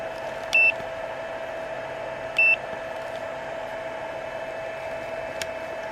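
A multimeter gives two short electronic beeps about two seconds apart, followed by a faint blip, over a steady background hum during battery charging and discharge testing.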